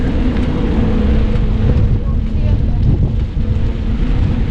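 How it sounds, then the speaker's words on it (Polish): Strong wind buffets the microphone in a constant low roar while cycling into a headwind, with a steady whoosh throughout. "Dobrze, że wieje, chociaż jedziemy w sobie cały czas pod wiatr"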